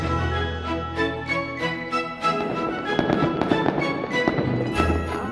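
Hundreds of New Year fireworks burst over a Greek city castle at midnight, a dense crackling barrage of pops and bangs with ringing tones, loud and continuous throughout.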